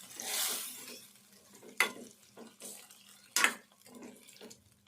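Tomato and brinjal pieces cooking in oil in a pan, a soft steady sizzle with a few sharper scraping clatters of stirring, close and moderately quiet, no talk.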